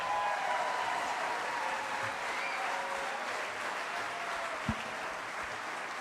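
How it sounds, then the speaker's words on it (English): An audience at the Nixon Library applauds Greg Gutfeld, a steady, moderately distant roar of many hands clapping that holds evenly throughout, with one brief bump partway through. "Give him a round of applause"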